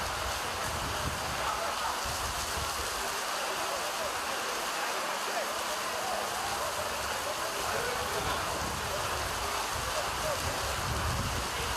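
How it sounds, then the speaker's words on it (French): Heavy rain pours down on a football pitch at Bellevue during a Mauritius versus Kenya match, making a constant dense hiss throughout, with a voice faintly audible underneath. "Il pleut des cordes ici à Bellevue."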